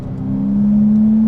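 A rare Porsche engine, freshly back from an engine-out service, revs while driving, its tone climbing and then holding a loud, steady drone close by.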